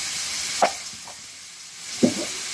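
Beef steak seasoned with salt and black pepper sizzles steadily and softly in a pan, with two brief scraping knocks as it is stirred.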